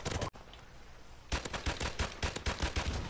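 A G3 rifle fires in Modern Warfare Remastered: after a brief lull, a fast string of loud, sharp shots cracks out in quick succession.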